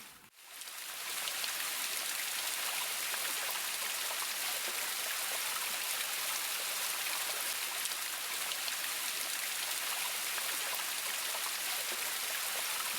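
A stream rushing over rocks near the Królewski Wodospad waterfall, a steady, dense, close wash of water noise that holds evenly for the whole stretch with no other sounds on top.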